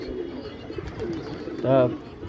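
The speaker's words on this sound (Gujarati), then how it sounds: "આપણું એક કબૂતર ઉડી ગયું" A pigeon gives a brief, soft coo partway through, set against low background noise and faint murmuring.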